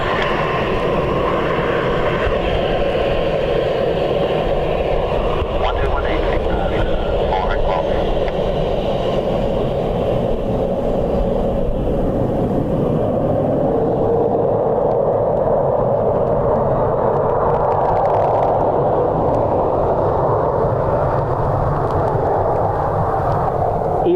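A jet airliner on final approach in strong crosswinds during a storm at Dublin Airport, a steady broad engine roar that swells and holds for the whole stretch, with wind and rain noise around it.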